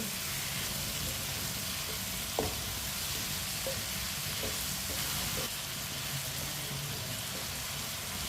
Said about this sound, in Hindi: आलू डाल के 2 मिनट के लिए पका लेंगे